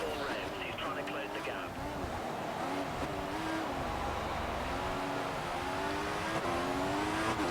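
Race cars in the F1 2014 video game at the Canadian Grand Prix, engines droning steadily with a brief low rumble as a car spins, while a voice talks over the continuous racing noise.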